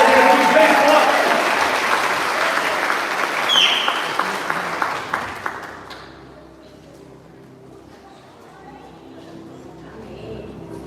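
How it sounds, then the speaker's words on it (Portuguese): A church congregation applauds, filling the room with dense clapping for about five seconds, then a few scattered claps before it settles into a quieter room murmur. "Você pode receber ela, aplaudindo a Jesus bem forte."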